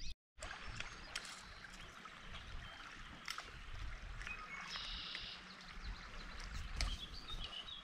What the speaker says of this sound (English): River crossing number two.